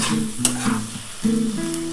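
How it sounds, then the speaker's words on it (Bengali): Spices frying in a pan for a dry bitter gourd curry as water is poured in, giving a loud steady sizzle with a sharp hiss and stirring clatter, alone with no talk. "দেখো এবার আমি কিন্তু একটু জল দিয়ে দিচ্ছি"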